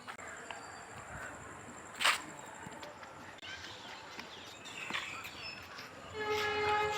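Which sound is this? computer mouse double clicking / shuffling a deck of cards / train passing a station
train passing a station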